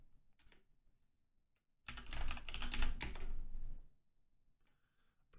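Typing a passphrase on a computer keyboard: a burst of dense, fairly close key clatter lasting about two seconds in the middle, with near-silence and a few faint taps before and after.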